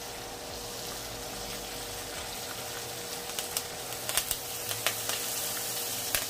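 A steak sizzles in a pan as it is basted with poured bacon fat, a soft, steady hiss with scattered small pops and crackles building toward the end.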